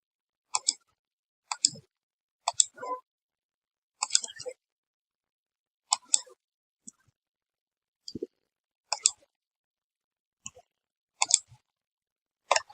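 Sharp computer mouse clicks during work in SolidWorks 2022 CAD software, about a dozen isolated single and double clicks spaced irregularly over several seconds, close and fairly quiet with no talking.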